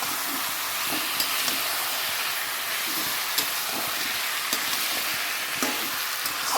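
Chicken kosha cooks in a pan with tomato, chili powder, turmeric, salt and sugar, giving a steady, fairly quiet sizzle and crackle throughout with small pops scattered through it.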